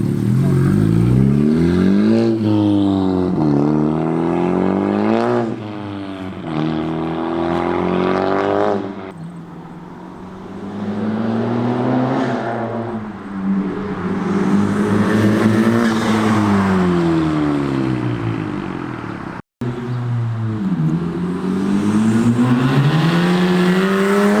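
Upgraded-turbo 10th gen Honda Civic Si with full bolt-ons accelerating hard, the engine rising in repeated loud sweeping pulls through the gears, with brief dips at each shift and one abrupt cut near the end.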